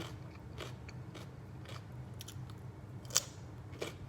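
Crisp crunching bites of fresh mango and cucumber, a few separate crunches close to the microphone with soft chewing between them.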